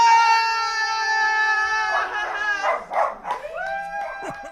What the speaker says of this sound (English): the dogs went just crazy because we were so tense